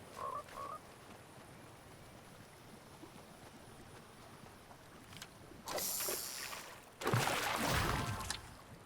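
Frog croaks in a Fortnite fishing-tournament match, short calls early on over a steady outdoor water-and-ambience bed, followed by two louder splashy bursts near the end.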